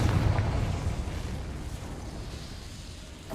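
A Confringo fire spell explosion in Hogwarts Legacy: a loud low burst at the start that rumbles and slowly fades over a few seconds, alone with no talking.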